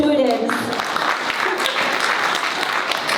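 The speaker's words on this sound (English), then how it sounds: "So round of applause for our students." Audience applause at a Tibetan school's annual cultural performance, a steady, fairly full round of clapping from many hands, with a voice briefly speaking at the very start.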